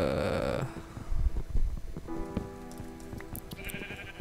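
Sheep bleating in Minecraft: a wavering bleat at the start, followed by soft rustling and light background noise, with a rain-like patter mixed in.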